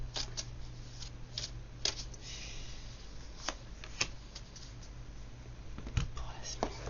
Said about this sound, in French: Je vais vous prendre une carte chez les fées.